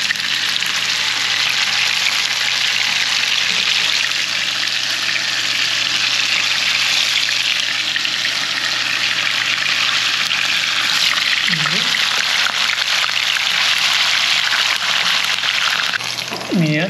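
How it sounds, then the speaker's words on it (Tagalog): Tofu sizzles steadily in hot oil in a pan, a continuous close crackling frying sound that holds for the whole stretch. "Prito po natin siya."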